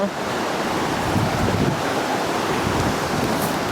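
Waves wash at the water's edge after a steep climb down through brush, a steady loud rush of surf mixed with heavy wind noise on the microphone, with no talk.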